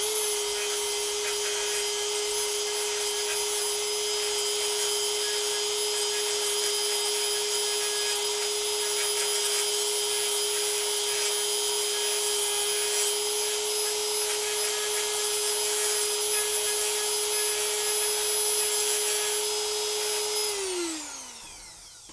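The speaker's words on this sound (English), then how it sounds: "I'm going to sand this down with the Dremel 4000 with the grip" A Dremel 4000 rotary tool fitted with a grip attachment sands steadily and close. Its high motor whine holds one even pitch throughout, with a gritty rubbing texture underneath, and then the pitch falls sharply as the tool spins down at the end.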